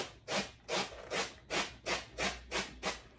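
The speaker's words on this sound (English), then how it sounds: "I can take my rasp and I can just rasp out those lines to make it a little more smooth" A rasp smoothing carved Esther foam, eight even, soft scraping strokes in a steady back-and-forth rhythm, close and fairly quiet.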